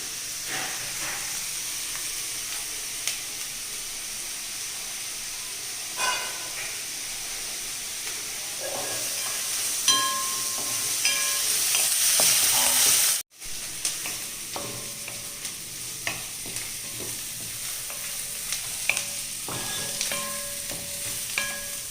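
Salted onions sizzle steadily in a hot pan, with occasional scraping and stirring clicks and a brief break midway before the frying resumes.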